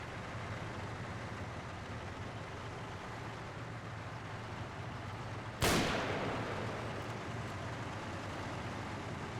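A single sharp shot rings out midway through over a steady rumbling battlefield ambience in the Combat Mission: Battle for Normandy video game, fitting sniper rifle fire, with the shot decaying into the background noise.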